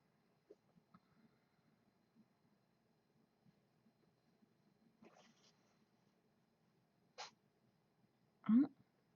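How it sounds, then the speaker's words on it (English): A small, quiet cat sneezes near the end with a sharp burst, after some faint shuffling and a couple of soft earlier snorts in a quiet room. "The kitty sneezed."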